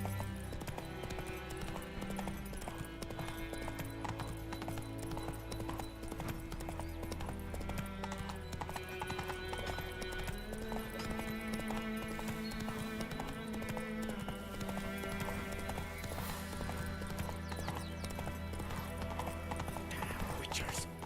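In The Witcher video game, the horse Roach gallops with a rapid, continuous clip-clop of hooves. A neigh comes up briefly, and loud game music plays over everything.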